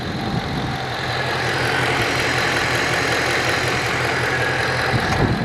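A 2016 Shelby GT350 engine idles steadily and loudly nearby, a continuous low rumble with an even, slightly lumpy throb and no talking.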